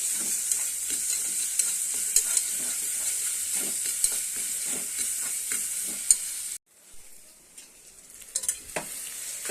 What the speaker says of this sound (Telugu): మేము ఇక చూడండి తాలింపు అయితే వేసుకున్నాను ఆనియన్స్